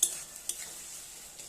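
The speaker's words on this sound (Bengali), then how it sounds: "লো টু মিডিয়াম ফ্লেমে ভালোভাবে মশলাটা কষিয়ে নিলাম" Masala sautéed in a pan over a low-medium flame for an egg dish: a soft, steady sizzle with a couple of sharp scraping stirs near the start, close and fairly quiet.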